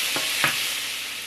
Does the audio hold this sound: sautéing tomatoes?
yes